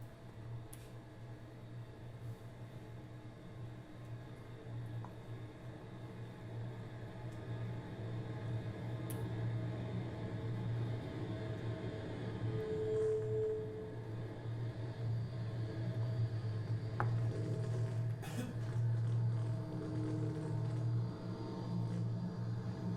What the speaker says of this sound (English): This is the sound of a microphone dying.